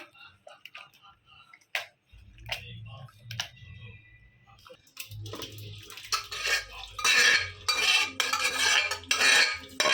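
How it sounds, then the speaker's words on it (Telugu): Cooked tomatoes for rasam are mashed in a pot, with sparse clinks and taps of utensils at first. Denser, louder, rhythmic scraping and squelching follows in the second half, with low rumbling underneath. "దీంట్లో మొత్తము వాటర్ తీసేసుకోవాలన్నమాట ఇలా మ్యాష్ చేసుకొని"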